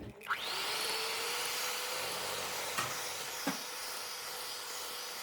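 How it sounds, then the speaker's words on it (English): Eggs being beaten into cake batter with an electric mixer for a cardamom almond cake, giving a steady close whirring hum that runs without a break, with two brief knocks partway through. "We are adding and whisking the eggs one at a time."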